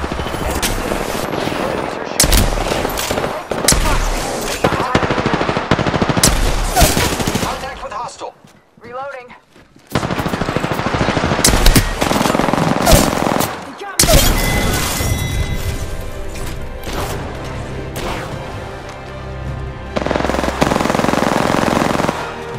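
Sustained automatic gunfire from an Apex Legends firefight, with long loud bursts and booms that stop briefly in the middle before resuming heavily, and voices heard among the shots.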